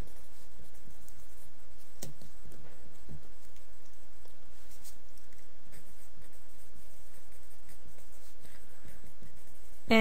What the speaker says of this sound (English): So I'll write that down.